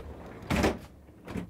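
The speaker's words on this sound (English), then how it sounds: "Let's open the freezer door." Samsung freezer door being pulled open, a close, short thump and release, then a second quieter knock about three quarters of a second later.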